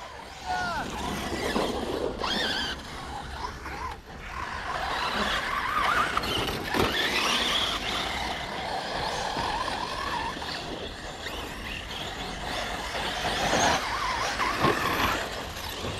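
Ming Yang Black Panther RC car driving and drifting on a track, its high-pitched motor whine rising and falling continuously as tires scrub and skid, with people talking nearby throughout.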